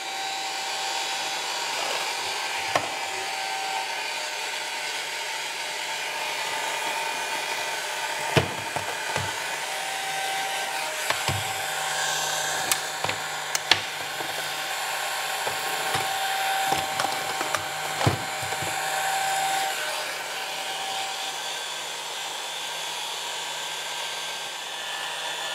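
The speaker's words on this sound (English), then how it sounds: "I will start my heat gun. This is set to 300 degrees Celsius. And I will start to apply heat." Heat gun set to 300 degrees Celsius blows hot air at a BMW electric wastegate actuator, a constant close roaring hiss held for the whole stretch, with scattered small clicks and knocks over it and no talk.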